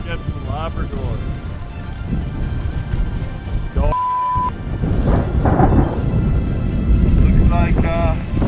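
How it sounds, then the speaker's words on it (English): A thunderstorm in the northern wilderness, with steady heavy rain and wind buffeting the microphone and thunder rumbling low beneath. A few bird calls cut through. "We're gonna wait out this storm so we don't get struck by lightning."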